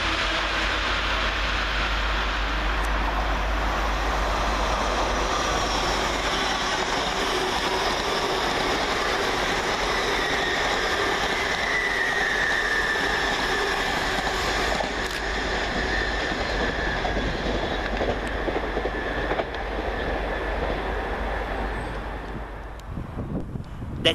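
Two trains pass each other at Peterborough station, a long continuous rumble and roar of engines and rolling wagons that holds loud and steady throughout, with wind buffeting the microphone and a faint squeal rising midway.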